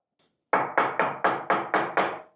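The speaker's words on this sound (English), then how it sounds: "You can hear the neoprene bouncing off the fence" Seven rapid, evenly spaced dull knocks, each decaying quickly, as a neoprene strip slaps against the fence of a Rikon 10-205 contractor table saw close by.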